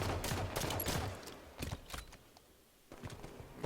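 Rapid bursts of gunfire in a Halo capture-the-flag match on the map Truth, a cluster of sharp shots early, then a few spaced single shots after a brief lull, loud and close.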